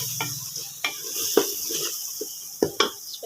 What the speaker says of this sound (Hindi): इन सारी चीज़ों को करेंगे थोड़ा सा मिक्स, ताकि थोड़ा सा इसका जो कच्चापन है वैसे मसालों का ख़त्म हो जाए।